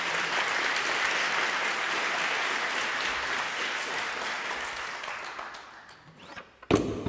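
Applause fills a hall during a music masterclass with violinist Ray Chen, a dense, even wash of many hands that slowly tapers off, ending in a couple of sharp knocks.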